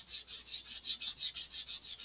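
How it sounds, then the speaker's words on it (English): Sandpaper rubbing back and forth over the bevel of a wooden model rocket fin for an Estes Black Brant XII kit, a steady rhythm of about a dozen quiet, raspy strokes close by, with no talking. "I'm almost sanded through the outer layer there"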